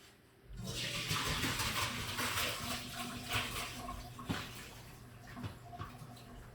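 Residue-filled water from a pot of New Mexico style red chile menudo being poured out and drained, a steady rushing splash that runs continuously for several seconds with small surges, fairly close, no talking.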